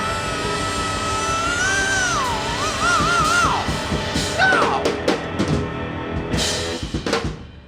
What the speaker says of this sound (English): I let out a little scream there.